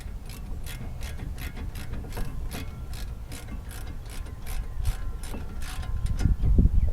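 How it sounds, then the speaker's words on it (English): A ratchet with a 15 millimeter socket tightens brake caliper bolts during a disc brake job, giving a rapid, steady run of close clicking pawl ticks that grows slightly louder and heavier toward the end. "grab my 15 millimeter socket. I'll tighten them up."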